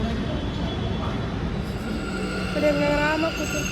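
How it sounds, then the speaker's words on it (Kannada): A metro train arriving at a station, with a continuous rumble of wheels on rail and rising squeals from the wheels near the end, heard close while a person talks over it. "so we are waiting for metro"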